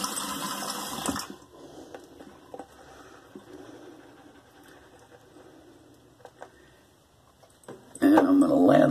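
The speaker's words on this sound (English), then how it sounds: "Let me re-wet my face." Water splashes and runs at a sink while a face is re-wetted for a wet shave, a loud gush at the start, then soft patters and drips, ending in another loud burst of running water.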